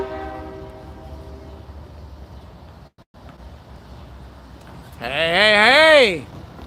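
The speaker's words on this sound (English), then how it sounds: "That horn's awful close." Close, loud train horn blasts at night from a Norfolk Southern or CSX locomotive, a harmonic multi-note chord rising in at the end over quieter rail rumble and a faint steady tone earlier.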